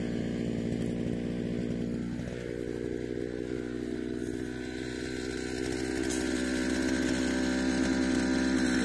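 New motorized brush attachment, small-engine powered, running steadily to clean strawberry beds; a loud continuous buzzing drone that holds a near-constant level throughout with slight pitch shifts, no talk over it.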